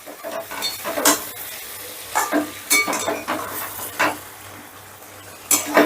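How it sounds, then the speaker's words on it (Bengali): Chopped capsicum is stirred into spiced pointed gourd frying in a pan, with repeated loud metal spatula scrapes and clinks against the pan over a steady sizzle, close by. "এবার ক্যাপসিকামটাও একটু নেড়েচেড়ে মিশিয়ে নেব"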